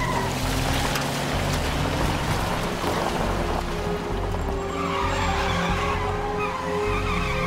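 A stolen car pulls away and skids in a movie scene, a continuous loud engine and tire noise with squealing wheels that runs steadily throughout without a break.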